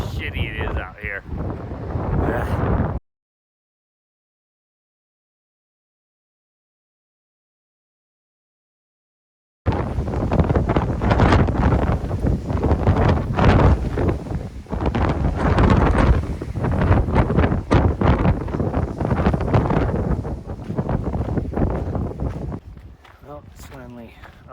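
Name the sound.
wind blowing on a hiking trail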